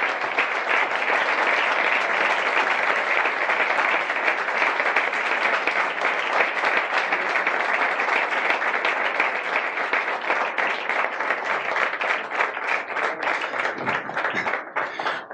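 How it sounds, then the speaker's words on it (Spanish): Loud, sustained applause from the audience at an award ceremony, dense clapping filling the whole stretch without a break and thinning slightly near the end. "doña Carolina Milei, para quien pido un fuerte aplauso"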